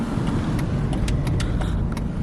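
A PT Cruiser's engine idles steadily with a low, constant rumble close by, interrupted by a few light metallic clicks or jingles, with no talking.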